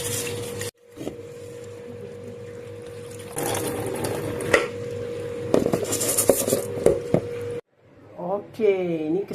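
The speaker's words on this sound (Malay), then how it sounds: "Kita buka air sehingga bersih." Tap water runs while rice is washed, a hissing splash over a steady hum that cuts off and returns in bursts. A voice speaks briefly near the end.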